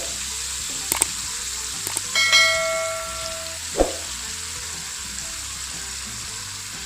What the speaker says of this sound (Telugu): మళ్ళీ మిగిలిన ఫిష్లు ఏవైతే ఉన్నాయో అవి నూనెలో వేసేసుకోవాలి